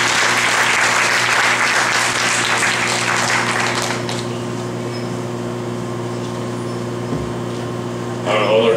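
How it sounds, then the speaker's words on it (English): An audience gives a warm round of applause at a university public lecture. The clapping is full for about four seconds, then fades to a low hum of room noise, with a brief sound near the end. "Let's give him a warm round of applause."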